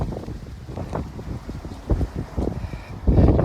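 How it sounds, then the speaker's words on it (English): Strong wind gusts buffet the microphone on a rooftop above a pond pergola, a low rumbling roar that surges in uneven bursts and swells loudest at the end. "But honestly, it's so windy up here."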